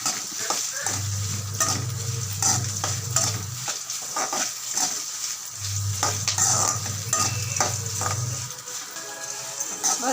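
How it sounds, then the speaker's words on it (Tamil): Curry leaves fry lightly in oil in a pan, giving a steady high sizzle while a spoon stirs and scrapes in two long bursts, close and clear with no talk. "சும்மா லைட்டாக மட்டும் வறுத்துக்கோங்க."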